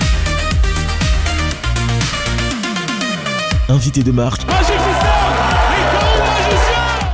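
A studio audience at a live French-language entertainment show claps and cheers loudly over bouncy music, with a presenter's voice speaking over the crowd.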